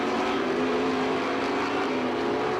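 Supermodified race cars roar around the Star Speedway oval in 1991, a loud sustained engine drone with a steady high-pitched whine, close and unbroken.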